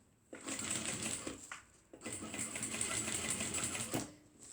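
A sewing machine stitches through a foam-lined foldover clutch purse, running in two steady, loud bursts of rapid mechanical whirring separated by a brief pause, close up with no talk.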